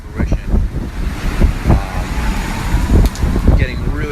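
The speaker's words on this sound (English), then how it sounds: "Getting really strong gusts here now." Strong wind gusts during Hurricane Irma in Miami roar and buffet the microphone in uneven surges, loud and close, with a voice talking over them.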